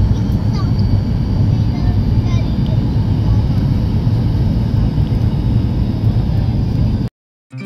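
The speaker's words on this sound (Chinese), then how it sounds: "乌鲁木齐到了，马上要降落在帝窝堡机场。" Airliner cabin noise during descent into Ürümqi Diwopu airport: a loud, steady low roar that fills the whole stretch, cutting off abruptly near the end.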